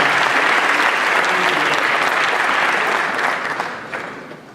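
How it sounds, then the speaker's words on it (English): A crowd at a city inauguration ceremony applauds loudly and steadily, a dense wash of many hands clapping that holds strong and then tapers off toward the end. "Let's give a round of applause."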